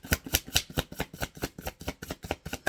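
Tarot cards are shuffled in a quick, steady riffle of soft papery slaps and flutters, close and fairly loud, with no talking.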